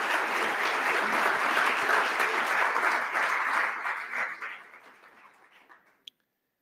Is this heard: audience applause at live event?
yes